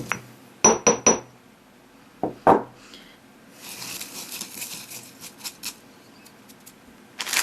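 Homemade Yule incense mixture is stirred in a bowl: a few sharp, close clinks against the bowl, then a longer gritty rustling and scraping swirl, ending with another knock.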